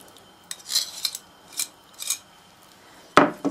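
Metal spoon or whisk scraping and clinking in a pot as hot custard cream is stirred after butter is added, several short bright scrapes in a quiet kitchen followed by a sharper knock near the end.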